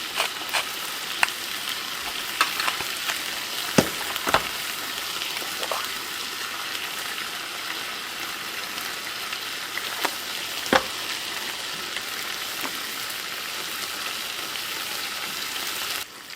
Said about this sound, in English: let this cook until it comes to a boil and thickens a bit